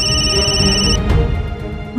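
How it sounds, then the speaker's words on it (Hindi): A phone rings loudly and close by in a domestic drama scene, an electronic ringtone repeating for about a second before cutting off, followed by brief quiet room sound. "फोन आया तो उठा क्यों नहीं रहा?"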